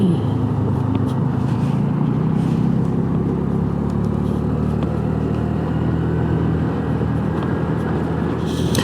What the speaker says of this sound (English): I don't know if you can hear the idle on this thing, just hunting up and down, up and down, up and down